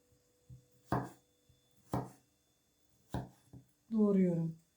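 A peeled, washed potato being cut into wedges on a board, giving a few separate knife chops with pauses between them, close and clear, ending in a brief tonal rise of another sound.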